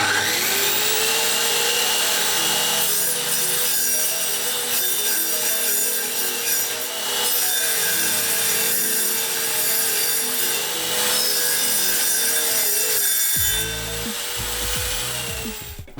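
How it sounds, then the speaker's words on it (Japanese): An M8 steel bolt is cut to length, giving a continuous loud, harsh grinding whine with bright ringing overtones that holds steady for most of the stretch before shifting near the end. "次はねこの M8 のボルトを必要な長さに切っていきたいと思います。"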